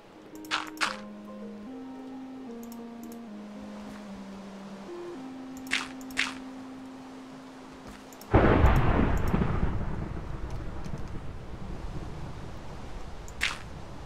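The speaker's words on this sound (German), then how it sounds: "Na, das donnert aber." Thunder rumbling during a Minecraft game modded with BuildCraft and IndustrialCraft: a sudden loud rumbling crack breaks in partway through and rolls on as a long, gradually fading roar, after quiet tonal game music and a few sharp clicks.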